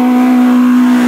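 A CG Turbo race car at the Mont-Dore hill climb holds a loud, steady engine note close by, with a strong sustained tone and no audible change in pitch over the short moment.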